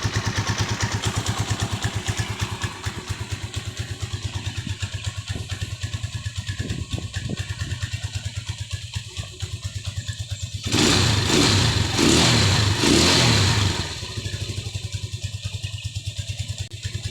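A motorcycle engine with its idle being adjusted idles with a steady rapid chug, then revs up loudly in a few quick bursts before settling back to idle.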